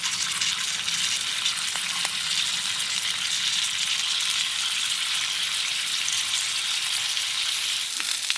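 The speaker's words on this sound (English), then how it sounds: "I'm just going to start with browning off the sausages. These are Toulouse sausages" Toulouse sausages browning in a pan, giving a steady, close, even sizzle and crackle of frying fat that holds unbroken for the whole stretch, with no voices over it.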